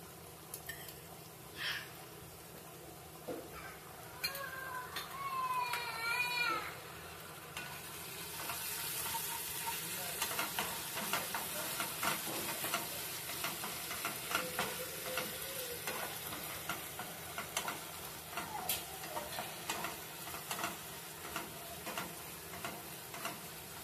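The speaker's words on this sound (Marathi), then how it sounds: "हे चांगले मिक्स करून घ्यायचे आहेत आपल्याला." Sauces for veg noodles, including red chili sauce and dark soy sauce, are mixed in a pan over a quiet, steady frying hiss with faint stirring ticks and scrapes. Brief bits of background voice come early.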